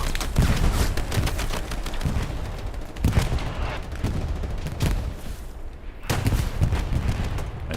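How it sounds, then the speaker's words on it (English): Artillery strikes and rifle fire rage across a Hell Let Loose battlefield at Foy, with repeated sharp shots and heavy booming impacts at irregular intervals over a constant loud rumble of combat. "all the artillery strikes go off in front of him"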